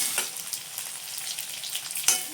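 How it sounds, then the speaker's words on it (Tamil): Eggplant pieces fry in hot oil for tamarind kulambu, giving a soft, continuous sizzle with scattered crackles and faint stirring, fairly quiet and close, with no voices. "இப்போ கத்திரிக்காயையும் நம்ம நல்லா வதக்கிட்டு எடுத்து வச்சுக்க போகிறோம்."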